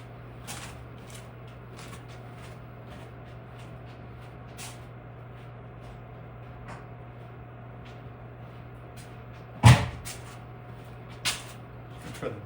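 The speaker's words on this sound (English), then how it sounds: "Try the dead blow here, see if I can get it." A dead blow hammer knocking a part loose on a 350 engine being sealed up: mostly quiet shop hum, then one sharp, loud thud followed by a smaller knock and a light tap.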